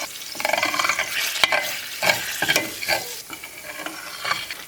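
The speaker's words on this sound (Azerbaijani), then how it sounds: "Üzərinə yarım stakan bu qədər un əlavə edirəm. Və onu qovururam." Flour roasting in a pan for a quick dessert, stirred with scraping spoon strokes and a light sizzle, close and fairly loud, with a few sharper knocks against the pan.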